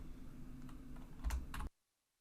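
A few quick keystrokes on a computer keyboard, close and soft, a short flurry of clicks that stops abruptly into silence.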